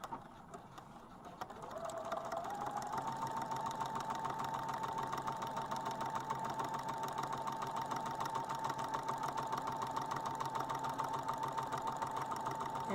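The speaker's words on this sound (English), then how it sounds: "I'm going to take it to the sewing machine and sew it together" A sewing machine stitches paper-pieced quilt block pieces, starting after a quiet moment and then running as a steady, rapid, close mechanical whir with a constant hum to the end.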